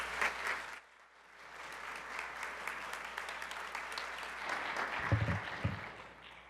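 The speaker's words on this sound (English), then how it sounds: "help me welcome her to this podium with a round of applause" Applause from an audience at an evening event honoring local people, a dense steady patter of clapping that swells after a brief lull and carries on evenly to the end, with a few louder claps near the close.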